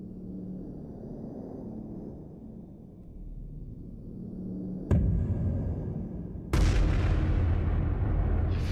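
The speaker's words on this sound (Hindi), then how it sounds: "एक विस्फोट, वो भी इतना बड़ा।" In a sci-fi film, a low rolling rumble builds, then two heavy blasts of a large explosion boom in quick succession, each leaving a loud, sustained roar that fills the space.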